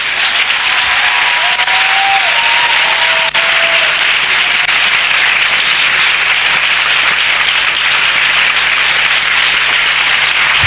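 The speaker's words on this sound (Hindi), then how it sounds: "आइए प्रभु के लिए एक अच्छी ताली बजाएंगे।" A church congregation at a Hindi-language worship service claps in loud, dense, sustained applause with no break, with a few brief vocal calls near the start.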